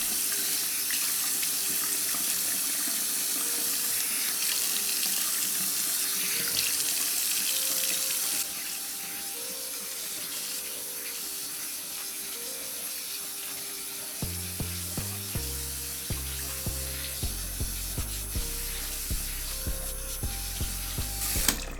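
Hair is washed under a running water tap in a sink, with a steady loud stream of water throughout and brief shifts and splashing changes in the flow partway through, and no talk.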